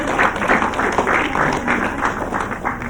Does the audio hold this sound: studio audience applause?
yes